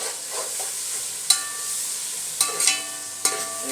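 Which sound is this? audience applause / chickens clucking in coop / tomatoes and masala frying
tomatoes and masala frying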